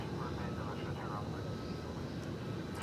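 A heavy jet airliner arriving at DFW airport on its approach from Chicago O'Hare, heard as a loud, steady broadband engine roar that fills the clip without a break.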